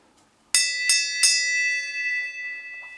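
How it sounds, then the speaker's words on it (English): A bright bell struck three times in quick succession, close and loud, its metallic tone ringing on and slowly fading. "Would you ring the bell?"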